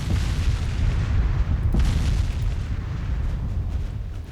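A torpedo strikes a warship in the naval battle game Ultimate Admiral Dreadnoughts, a heavy low rumbling boom that swells and rolls on steadily for several seconds, loud and close with no voices.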